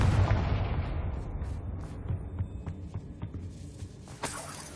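Confringo fire spell blast in Hogwarts Legacy, a heavy booming explosion that rolls off into a long decaying rumble with scattered crackles and debris pops.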